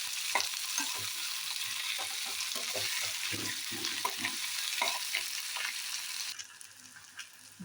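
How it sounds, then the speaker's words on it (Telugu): Tomato and onion masala frying in oil in a pan for chicken gravy, a continuous close sizzle broken by scraping stirs, easing slightly near the end. "ఇది ఫ్రై అవుతూ ఉందండి"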